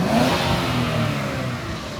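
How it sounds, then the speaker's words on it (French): An Infiniti V6 biturbo car engine revs steadily with a deep, dense roar that holds at a constant loud level throughout, with no voices over it. "Oh, il est gros le moteur, on l'entend"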